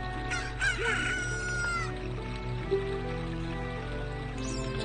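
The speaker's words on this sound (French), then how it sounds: "Poulet!" A rooster crows in Zelda: Ocarina of Time, its cock-a-doodle-doo rising over a steady game backdrop, then a single short cluck follows, moderately close with no talk.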